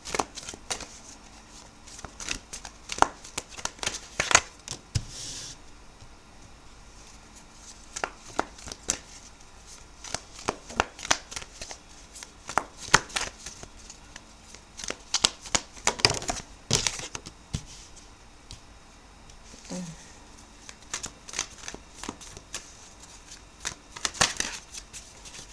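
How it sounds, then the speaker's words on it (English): Tarot cards being shuffled and spread across a table for a reading, giving repeated crisp riffling and slapping bursts, close and fairly quiet, with no talking. "So I'm going to go ahead and get your cards spread out for you here"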